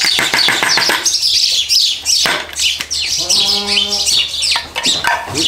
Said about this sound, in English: Here we got some birds up there in the barn.